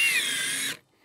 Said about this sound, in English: I'm gonna run this screw into both the top and bottom rail.